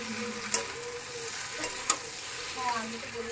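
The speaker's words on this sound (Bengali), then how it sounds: "সমস্ত কিছু ভালো মতো একটু ভাজা হয়ে গেছে, আর এবার আমি এর মধ্যে দিয়ে দেবো ভেজে রাখা পনিরগুলো" Fried paneer is tipped into tomato masala frying in a pan, giving a continuous close sizzle with stirring and two sharp clinks of a utensil against the pan.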